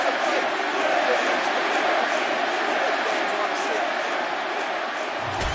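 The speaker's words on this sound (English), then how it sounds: "So the crowd voicing its appreciation after that round" A UFC arena crowd cheers and roars after a round that included a knockdown, a dense, sustained wash of voices at steady loudness throughout, with no one speaking over it.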